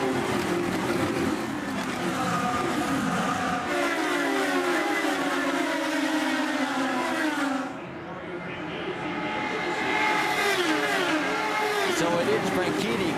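IndyCar race cars roar and accelerate in a pack on a restart at Milwaukee in 2011, a loud sustained engine drone with rising revs that briefly dips, then surges back; commentary continues throughout.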